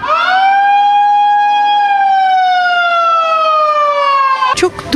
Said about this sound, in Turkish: Bütün Türkiye'de sirenler çalmaya başladı.